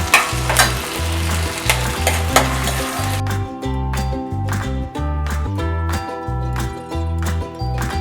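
Salted onions sizzle and fry in a pan, with a steady crackling hiss broken by repeated clinks and scrapes of a utensil stirring, background music playing underneath.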